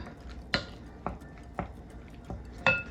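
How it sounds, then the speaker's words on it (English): An egg being whisked up in a bowl, a few sparse clinks of utensil against the dish spaced about half a second apart, soft and close, with no talking. "I'm going to break that up, I think, and just mix it just a little bit"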